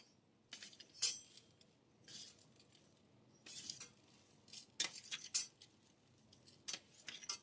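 A metal spoon clinks and scrapes against a dish while stirring 3/4 cup of sugar into sweet rice (charkhe meethe chawal), in soft, scattered taps and clinks at a quiet, close level with no talk.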